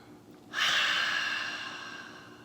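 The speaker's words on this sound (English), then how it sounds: "We're going to take a big breath in and a loud breath out." A single loud, breathy exhale during a home yoga breathing exercise, rushing in suddenly close to the microphone and tapering off slowly over about two seconds, with no talking.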